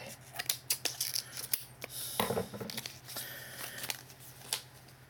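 Scissors snipping through stiff plastic packaging of a Yo-kai Watch card battle set, a run of sharp close cuts and crinkles with brief rustling pauses, no talking.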